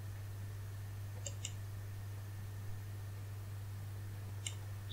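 Two pairs of soft, close computer mouse clicks while working in database software, spaced a few seconds apart over a steady electrical hum.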